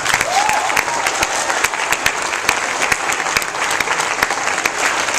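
An audience breaks into steady, sustained applause to welcome a speaker back, with dense clapping throughout and a few voices faintly audible underneath.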